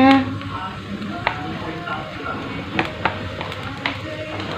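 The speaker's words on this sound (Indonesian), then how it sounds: "Ini kita tumis dulu bawangnya." Onions sautéing in an old-style pot while making chicken vegetable soup, a soft steady sizzle with occasional stirring clicks under a woman's speech.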